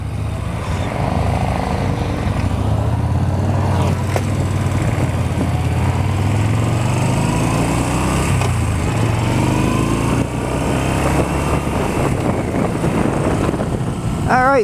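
A 2018 Yamaha Bolt motorcycle pulls away with a loud, steady engine drone that rises through its revs, close and continuous, with faint wind rush and no talking over it.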